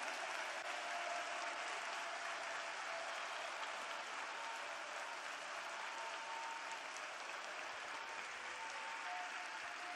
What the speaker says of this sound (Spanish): y denle el mejor aplauso que jamás le haya dado.